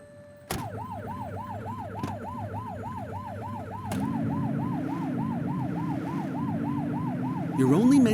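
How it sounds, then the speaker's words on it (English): A wailing police siren in the video game The Precinct cycles rapidly up and down, loud and steady, joined partway through by a lower droning tone and engine hum. "You're only meant to use the siren in emergencies."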